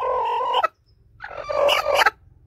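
A broody hen gives two loud, throaty calls separated by a brief pause, the second longer and rougher, recorded up close.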